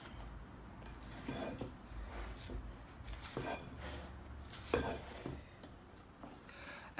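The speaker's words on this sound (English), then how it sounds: "Mix everything in." Dry ingredients for shortbread cookies being mixed in a bowl, faint continuous scraping and rubbing with occasional light clinks of the utensil against the bowl, no voices.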